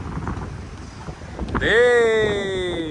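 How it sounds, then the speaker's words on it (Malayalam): Strong wind roars and buffets the microphone, then a loud, sustained tonal sound rises over it and holds. "നല്ല കാറ്റ്"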